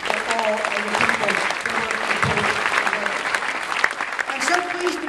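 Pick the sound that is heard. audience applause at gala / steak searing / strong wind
audience applause at gala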